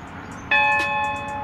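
Bright bell ding sound effect, a single clear metallic strike that rings out and decays slowly over about a second, loud and alone over a faint background hum.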